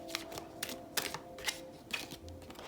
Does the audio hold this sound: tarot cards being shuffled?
yes